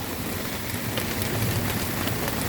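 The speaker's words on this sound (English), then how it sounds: "a lot of rain suddenly with some hail. Little tiny pea-sized hail." Heavy rain falls with small pea-sized hail pellets under a gray sky, a dense steady hiss with scattered sharp ticks of hail striking surfaces nearby.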